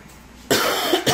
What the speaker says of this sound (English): Excuse me, a little cough.